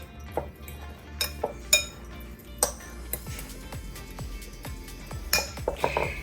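A spoon clinks and scrapes against a dish while ingredients with Monterey Jack cheese are stirred together, a run of sharp close clatters and knocks at an uneven pace, with no talking.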